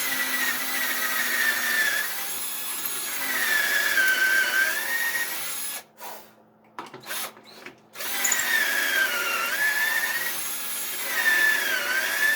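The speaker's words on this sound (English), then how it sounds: "just a little wimpy drill I got going on here" A small, weak power drill bores pocket holes into wood through a Kreg jig, whining steadily up close in long runs and pitching down under load, with a brief pause midway while the bit is lifted.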